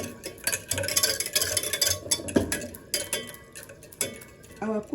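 Butter and milk stirred together in a pot to make cooking cream, a spoon scraping and clinking against the pan in an irregular rhythm, close and moderately loud, with a faint sizzle beneath.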